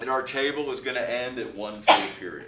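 A single sharp sneeze bursts out near the end, cutting across a person speaking steadily.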